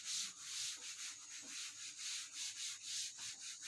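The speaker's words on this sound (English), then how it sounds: "For that I have to again rub." A writing board being rubbed to wipe it clean during a classroom lesson, a steady rhythmic scrubbing in quick back-and-forth strokes, soft and close, with no speech.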